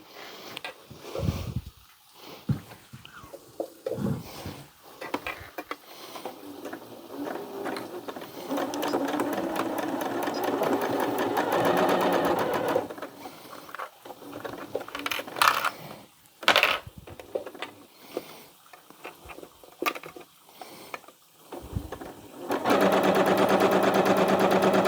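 A home sewing machine stitching binding onto a raglan hoodie, running in loud sustained whirring bursts that stop and start, with clicks and handling noises between runs, close and without talking.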